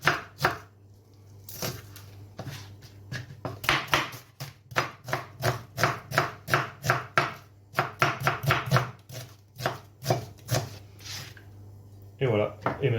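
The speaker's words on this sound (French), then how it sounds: "Pour notre oignon, nous allons l'émincer" A knife slices an onion on a cutting board in quick, regular crisp chops, close and clear, with a few short pauses in the rhythm.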